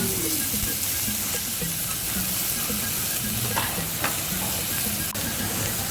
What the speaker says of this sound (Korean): 언제 들어도 고기 굽는 소리는 좋습니다